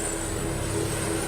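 Steady, droning rotor and engine noise from an air ambulance helicopter, loud and continuous with a constant high whine over a low rumble.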